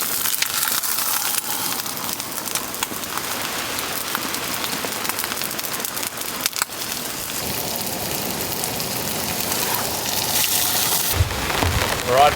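Heavy rain pounding steadily around a campsite during a cold storm, a dense continuous hiss with gusts of wind and a few sharper bursts, loud and close throughout.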